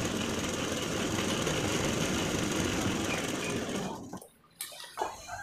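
A sewing machine stitches a sleeve in a steady, dense whirring rattle for about four seconds, then stops, leaving a few faint clicks.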